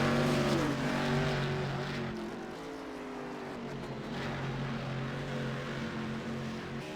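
Race cars at Summit Point racetrack, engines droning steadily as they pass along the straight, a sustained loud roar with shifting pitch and no talk.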